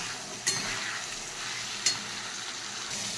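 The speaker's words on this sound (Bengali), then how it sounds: "টমেটো আর কড়াইশুঁটি দিয়ে দিলাম।" Tomatoes and green peas go into a pan of frying potatoes with cumin and bay leaf, giving a steady soft sizzle with two brief sharp clinks of a utensil against the pan, no talking.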